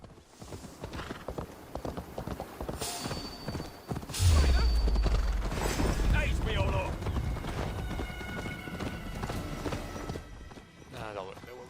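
Horse galloping in the video game Assassin's Creed Valhalla, rapid rhythmic hoofbeats that grow louder midway, with a deep rumbling layer, game sounds and someone talking over it.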